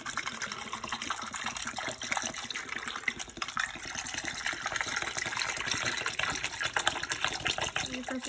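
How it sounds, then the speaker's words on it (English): White vinegar being poured into a tray of Easter eggs for dyeing, a steady close splashing, gushing flow that runs continuously with small irregular spatters. "So you want to pour the vinegar in the eggs."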